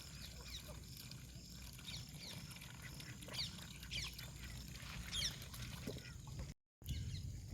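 A large white bird gives several short, harsh calls outdoors, moderately close, over a steady low rumble of background noise, with a brief dropout near the end.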